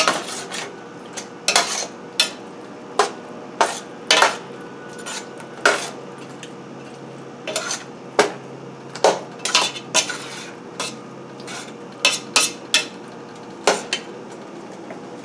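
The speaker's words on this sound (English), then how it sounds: "Actually, let's move to my slotted spoon here. Stir and continue to cook." A slotted spoon stirs chicken curry in a pot, knocking and scraping against the metal in repeated sharp clanks at an irregular rhythm, close and fairly loud, with a faint background hum and no talking.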